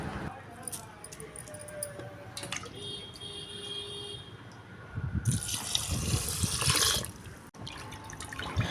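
Ration-shop rice is washed by hand in a vessel of water, soft sloshing and light splashes that grow louder and busier partway through, with occasional clinks and a voice speaking quietly in Tamil.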